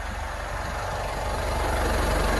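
Volvo Penta D4 260HP diesel inboard aboard a Rinker 270, idling in neutral under an open engine hatch: a close, loud, steady low diesel rumble with a rapid even pulsing beat and no voices.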